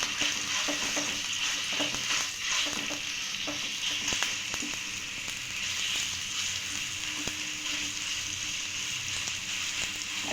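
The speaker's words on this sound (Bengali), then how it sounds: "দিয়ে ভালোভাবে নেড়ে চেড়ে কিমাটা আমি একটু রান্না করে নেব।" Minced meat stirred and fried in a pan, a loud, even, close sizzle with repeated sharp spoon scrapes and knocks throughout, no voices.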